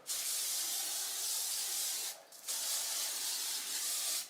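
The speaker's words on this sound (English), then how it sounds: "Once you go ahead and pull the curls out, you can take and put a hairspray" Hairspray from an aerosol can hisses steadily onto hair, loud and close, with one short pause midway before the spray resumes.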